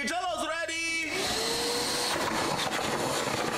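A vacuum cleaner in a home roars steadily and loudly, taking over after a second of overlapping voices and continuing as a dense, continuous whine.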